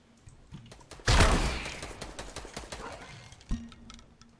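A loud burst of video game gunfire that tails off gradually, followed by a second, smaller shot near the end.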